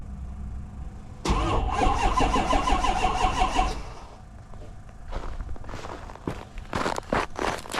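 A 6.4 Powerstroke diesel pickup is cold-started at minus 30 after being plugged in for about 2.5 hours: a loud, close cranking burst of about two and a half seconds, then quieter running with scattered clunks and footsteps.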